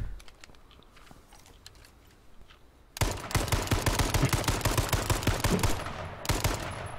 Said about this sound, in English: I'm out in the town just shooting off my rifle.